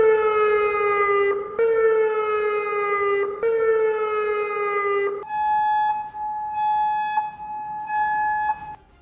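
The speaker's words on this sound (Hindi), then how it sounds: "लगातार बज रहे सायरन की आवाज ने लोगों को डरा दिया" Air defense sirens in Kuwait during an Iranian missile attack, a loud sustained multi-tone wail that holds steady, drops in pitch at intervals and then shifts to a thinner two-tone sounding, continuing for several seconds without speech.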